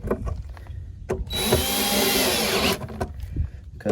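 A power driver runs a bolt into trim bezels on a Kenworth W900 truck, one close buzzing whir lasting just over a second amid quiet handling clicks and knocks.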